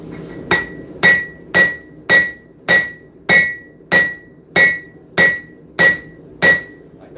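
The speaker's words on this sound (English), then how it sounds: "Y'all see how much that hammer is jumping back up?" Hammer blows ringing on an anvil during forging, about a dozen sharp, evenly spaced metallic strikes, each with a bright ringing tone, loud and close with no talking.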